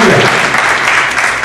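Loud, dense applause from a church congregation, a short sustained burst of many hands clapping together.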